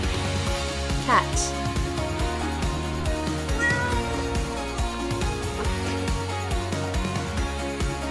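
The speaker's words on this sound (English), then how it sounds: "Cat." A cat gives a short rising meow early on, set against steady background music that carries on throughout.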